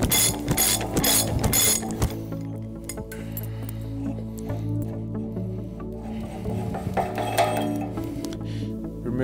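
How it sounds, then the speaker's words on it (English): A ratchet spinning off the castellated nut of a unitised bearing hub on a trailer: steady, close, rapid metallic clicking that runs throughout, with brief pauses and clinks of the nut and tool. "Then we remove the castellated nut."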